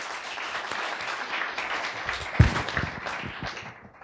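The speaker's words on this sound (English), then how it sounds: "a round of applause for our panel here today" A conference audience applauds a policy panel on civil asset forfeiture, steady clapping filling the room at moderate level with a few sharper claps standing out.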